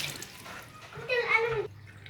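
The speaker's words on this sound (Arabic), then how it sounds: "جبت الميه ودلقت" Water poured out onto a kitchen surface during cleaning, a brief splashing gush of about half a second after quieter handling sounds.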